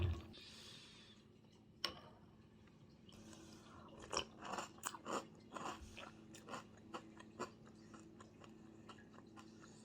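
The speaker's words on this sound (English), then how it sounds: "I'm about to try the most expensive cereal I've ever had" Crunchy chocolate Magic Spoon cereal is chewed close to the mic in a run of irregular crisp bites and crunches after a few seconds of quiet breathing, with no talking.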